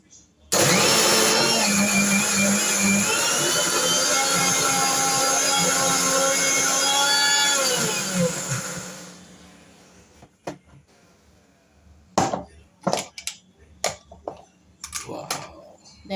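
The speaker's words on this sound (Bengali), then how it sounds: "আর হচ্ছে এটা এখন ব্লেন্ড করব।" A blender whirs loudly and steadily while blending homemade mayonnaise with pink salt, running for about eight seconds before winding down, followed by scattered clicks and handling knocks.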